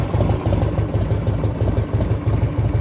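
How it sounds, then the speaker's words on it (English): A 1984 Harley-Davidson FLT Tour Glide engine idles low and steady, with a continuous rumbling pulse that stays close and loud throughout and no voices over it. "Idle's a little low."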